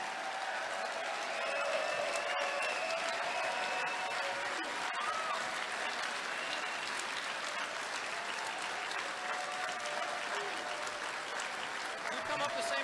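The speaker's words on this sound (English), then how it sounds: "give a round of applause for the nominee for President of the United States" A convention hall audience applauds the Libertarian Party's presidential nominee, Governor Gary Johnson, with sustained, even clapping and cheering filling the room from start to finish, voices and shouts blended into the ovation.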